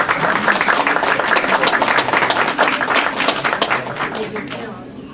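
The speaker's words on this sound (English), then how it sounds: "Let's all clap." A seminar audience applauds to welcome a guest district attorney, with dense, loud, sustained clapping that carries on for several seconds before tapering slightly at the end.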